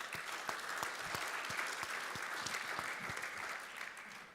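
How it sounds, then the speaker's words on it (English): Audience applause for the speakers at a European consumer healthcare industry conference in Berlin, a steady wash of many hands clapping at moderate distance, easing off slightly at the end. "one more round of applause for the speakers"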